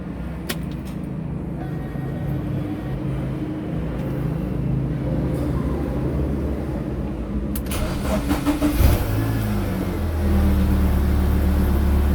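A BMW E36 with an M43 engine, radiator cap open while its coolant is bled, sits ticking quietly before the starter cranks briefly near the end and the engine catches into a steady idle.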